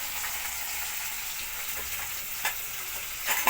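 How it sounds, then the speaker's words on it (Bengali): Jute leaves frying in a pan make a continuous hissing sizzle at moderate level, with a few sharp crackles and pops toward the end. "পাট শাক ভাজবো।"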